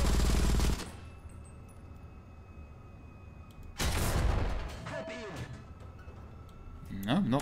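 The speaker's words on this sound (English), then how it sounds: "Now blow out all of his panels with the MG." A machine gun in a tank video game fires two loud, dense bursts separated by a quieter stretch, with a third burst starting at the very end; talk runs faintly through the pauses.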